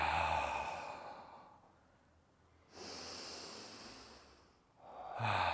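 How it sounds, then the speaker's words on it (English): Slow, quiet breathing drawn in through the nose and released out the mouth in soft airy breaths, close and alone with no talking. "Breathing in through the nose. And then it just falls out the mouth."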